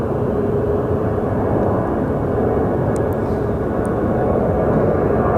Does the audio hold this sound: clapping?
no